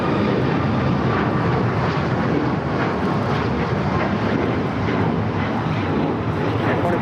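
An airplane takes off from runway 25 right at LAX with a broad, loud jet roar that holds steady and strong throughout, no speech audible over it.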